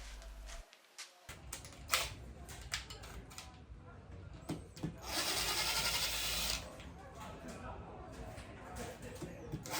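A hand tool works on the secondary oil pump cover of a KTM engine during a teardown, giving short clicks and taps and a longer whirring burst midway, quiet and close.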